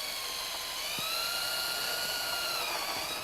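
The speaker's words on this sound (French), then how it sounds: "Donc je commence à visser" A power drill drives a screw through a wooden deck board laid over a steel frame, with a steady whining motor hum that rises slightly in pitch as the screw sinks in.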